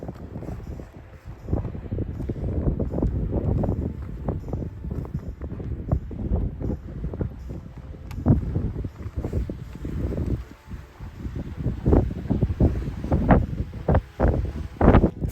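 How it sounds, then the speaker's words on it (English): Freezing gusts batter a razorback mountain ridgeline on the way to an alpine shelter, buffeting the microphone in uneven surges and flapping against rain jackets, with faint rustling and footsteps beneath. "Freezing gusts pushing packs about and blowing against rain jackets"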